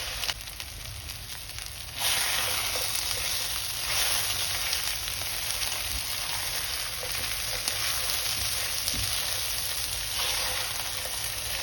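Cubes of eggplant and potato fry in hot oil with a dense, steady sizzle that swells louder after a couple of seconds and keeps crackling on with no talk.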